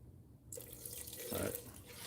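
Water runs from a tap into a garage sink to rinse and wash mechanical parts, starting abruptly as a steady rushing splash that swells slightly near the end.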